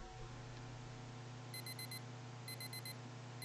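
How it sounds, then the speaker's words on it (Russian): An alarm clock rings in quick electronic beeps grouped in bursts of four, repeating after a short pause over a low steady hum, fairly faint. "А почему у этих будильников такой мерзкий звонок?"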